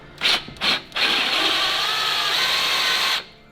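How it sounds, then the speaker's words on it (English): A sharp drill bit bores out stuffed aluminium on an old engine being revived. Two short whirring bursts come first, then a steady, close grinding run of about two seconds before it stops. "So we are going to drill it out though."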